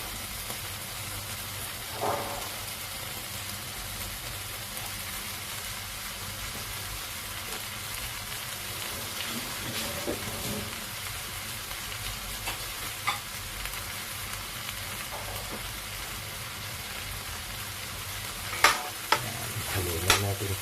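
Pechay stems sizzle in a pan with mung beans and shrimp while a utensil stirs them, a steady low frying hiss with occasional scrapes and a few sharper clinks toward the end.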